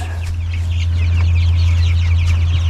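Several four-week-old meat chickens cluck and murmur close by indoors over a loud, steady low hum, soft calls overlapping throughout.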